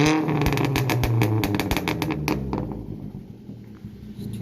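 Revving exhaust of a Vauxhall Astra H 1.4 SXi running with its muffler deleted, loud and close, with a busy throbbing note that rises sharply and then falls away to a rumbling idle.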